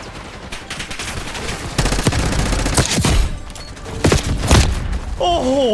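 Loud, close automatic gunfire in Call of Duty Black Ops 6 comes in repeated rapid bursts separated by short gaps. A player talks excitedly over the shooting.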